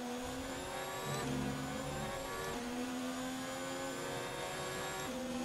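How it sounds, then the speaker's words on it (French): Honda-engined Formula 1 car racing in the F1 2019 video game, a steady high-pitched engine whine with shifting harmonics and brief gear-change dips, loud and continuous with no talk. "le moteur Honda qui est excellent"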